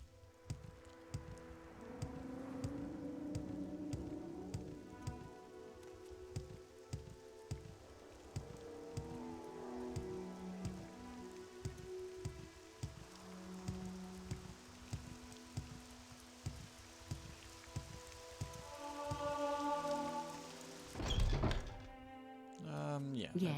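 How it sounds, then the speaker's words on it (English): Rain pattering in the video game Morrowind, a light steady drizzle under background music and clicks, with scattered thumps and a louder burst near the end. "Oh, the first time it's raining."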